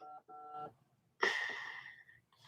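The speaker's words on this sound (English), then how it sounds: "my sister just texted me" A mobile phone sounds a text message alert: two short, clear electronic beeps followed by a brighter, ringing chime that fades over about a second. The sounds are close and alone in a quiet room.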